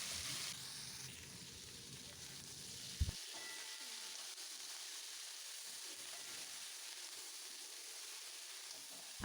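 Broccoli and potatoes fry in hot oil, giving a soft, steady sizzling hiss with a faint clatter near the start, quiet and continuous throughout.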